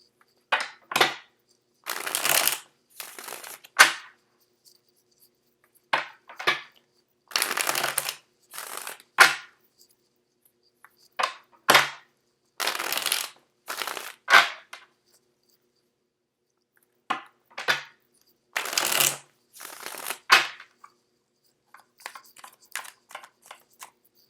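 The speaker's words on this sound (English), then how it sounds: "I'm going to shuffle out your spread." Tarot cards are shuffled in repeated quick bursts with short pauses between, crisp riffling and flicking close up, with no talking.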